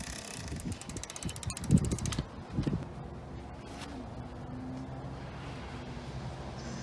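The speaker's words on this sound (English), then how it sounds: "push the derailleur body while pedaling" A bicycle rear derailleur is pushed by hand while the pedals turn, giving rapid ratcheting chain clicks that stop after about two seconds, then a quieter steady whir of the chain running through the gears.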